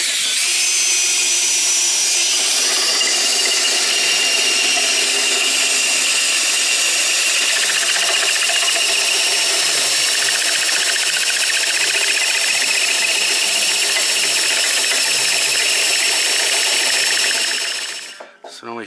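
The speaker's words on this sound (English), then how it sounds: "Now you're supposed to have a masonry drill for this" A power drill bores into masonry with an ordinary bit, a loud, continuous high-pitched grinding whine lasting nearly twenty seconds before it winds down and stops.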